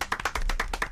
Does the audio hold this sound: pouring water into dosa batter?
no